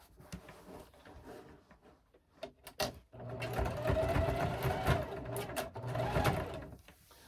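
A sewing machine stitching a jelly roll rug, a few short clicks and handling noises and then a close, steady mechanical whir for about four seconds, with a brief break near the end.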